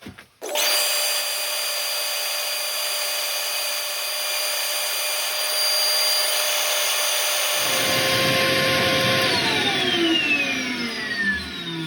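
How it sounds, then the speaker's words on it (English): A lathe spins with a steady high whine while sandpaper rasps against the turning oak, the friction growing louder and rougher partway through. "So now we're going to do a quick bit of sanding."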